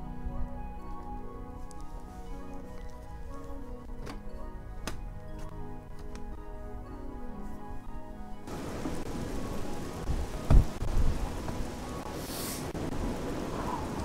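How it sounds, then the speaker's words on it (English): Rain starting suddenly in Oblivion: a quiet stretch with faint tonal music gives way to a steady hiss of falling rain, with a brief low thump of thunder near the end. "it just all of a sudden decides to start raining on me again"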